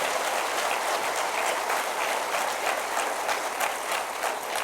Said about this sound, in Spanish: ¿Le puedes dar un aplauso al Señor?